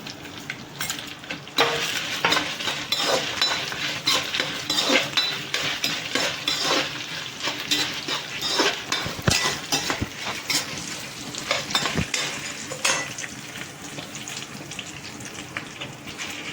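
Spices for a drumstick-leaf chutney sizzle steadily in a hot pan, with a spoon scraping and clinking against the metal as they are stirred, close and continuous with no talk.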